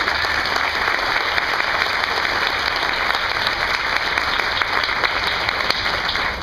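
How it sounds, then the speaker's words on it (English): Steady, dense applause from a large audience at a 100th anniversary kickoff event, honoring volunteers, sustained evenly at full strength throughout with no speech over it. "Let's give a round of applause."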